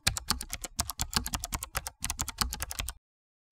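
Rapid clicking keystrokes on a computer keyboard as commands are typed into a Linux terminal, a close, quiet burst of uneven taps that stops abruptly before the end.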